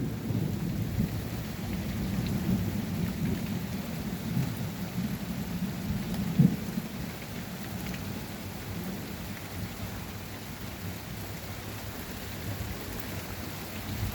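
Strong summer thunderstorm at Montady, southern France: steady rain hisses on surfaces throughout while deep thunder rumbles roll low and close, with one sharper crack near the middle, no voices.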